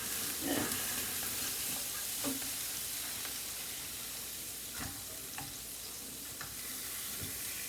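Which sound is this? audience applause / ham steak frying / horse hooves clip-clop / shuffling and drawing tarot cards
ham steak frying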